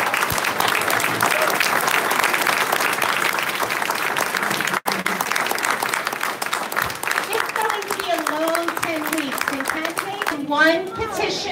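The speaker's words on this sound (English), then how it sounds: "give our candidates a huge round of applause" A congressional Democratic debate audience applauds the candidates with sustained, dense clapping filling the room, while voices and speech rise through the ovation toward its end.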